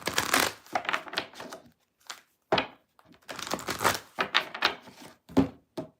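Tarot cards are shuffled by hand in a series of crisp riffling and slapping bursts, close and fairly loud, broken by short pauses.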